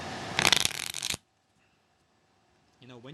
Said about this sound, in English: So when you shuffle, you have the cards in your possession.